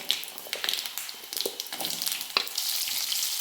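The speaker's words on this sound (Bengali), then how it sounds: "ওই তেলের মধ্যেই তেজপাতা, 5 ফোড়ন দিয়ে দিচ্ছি। একে একে সব সবজিগুলো দিয়ে ভালো করে ভেজে নেব।" Bay leaf, five-spice seeds and vegetables frying in hot oil while cooking a traditional fish-head and bottle-gourd-greens dish, a steady close sizzle with scattered crackles and pops throughout.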